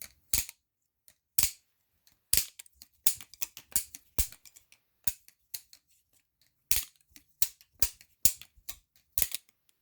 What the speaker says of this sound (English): Because when this clicks,